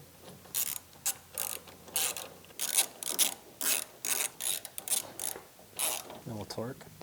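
Bolts being tightened on front suspension clamps of a Datsun 260Z, heard as a close series of short ratcheting bursts, about a dozen in rhythmic succession, with brief pauses between strokes.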